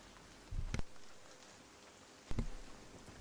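Steady rain falling in the video game ARC Raiders, a soft continuous patter broken by two brief louder rustles or thumps close by, with no speech over it.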